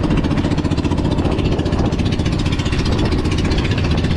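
Very strong wind blows outdoors in a storm, a loud constant rumbling roar that buffets close up with no pauses.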